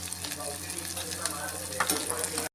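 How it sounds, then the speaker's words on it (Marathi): Mustard seeds, cumin, onion, green chili and salt fry in hot oil in a pan, producing a steady, close, continuous sizzle with faint stirring scrapes throughout. "मोहरी त्यानंतर कांदा त्यानंतर हिरवी मिरची आणि मीठ टाकून लालसर होईपर्यंत होऊ दे"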